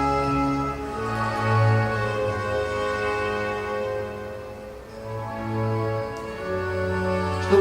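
A slow, lyrical, melancholy Handel movement played in authentic style on period instruments, sustained bowed lines and held bass notes swelling and fading steadily at moderate volume; no voices.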